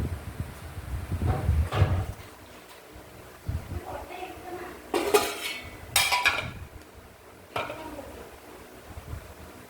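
Metal cooking pots clank and knock as they are picked up and set down, several sharp clatters spaced out, with people talking nearby.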